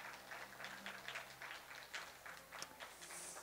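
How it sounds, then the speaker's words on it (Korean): Quiet, distant applause from the audience at the Iksan youth network general assembly, a soft, even patter of many hands that holds steady throughout. "여러분 박수 한번 보내주시기를 바라겠습니다"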